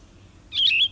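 Yellow-throated vireo song: a single short, rough, burry phrase of two or three slurred notes, clear and fairly close, following a brief quiet pause with no other sounds.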